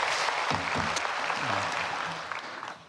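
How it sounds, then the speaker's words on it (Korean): Congregational applause at a Korean dawn prayer service, a dense burst of many clapping hands with a voice speaking briefly over it, fading out toward the end. "우리 하나님께 더 큰 영광의 박수 올리겠습니다."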